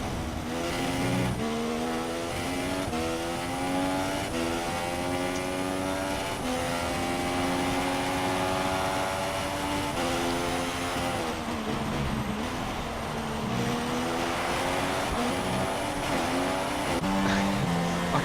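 Race car engines in a sim racing game at the Bahrain Grand Prix, a continuous loud whine of several cars with rising and falling pitch as they shift gears, no talking over it.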